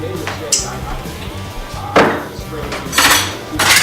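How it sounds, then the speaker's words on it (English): A knife clatters against a pan or plate while cheap store-bought pasta sauce is spread over meat on a homemade pizza, with several sharp metallic scrapes and knocks over a low background hum. "just take a knife, kind of spread that sauce around, mix it in with the meat"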